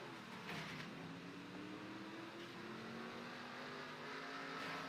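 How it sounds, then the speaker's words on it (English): A race car engine drones in a BASS racing video game, its pitch gliding and shifting as the car drives and spins, sounding steady and fairly quiet with no voices. "Just drive right into the dead car and spin yourself."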